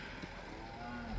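Cattle low once inside a farm shed with old wooden cubicles on a Scottish livestock farm, a single close, clear moo that swells toward the end, with no talk over it.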